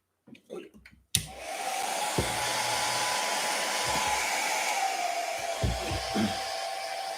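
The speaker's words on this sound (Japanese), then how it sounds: "ここにドライヤー置いてあるんですね。" A hair dryer switches on abruptly and runs with a steady, loud whooshing roar, close by, with a few faint knocks and handling sounds near the end.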